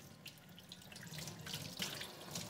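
Tap water runs steadily into a sink while a paint roller sleeve is rinsed clean, a continuous close splashing hiss with slight surges and no talk.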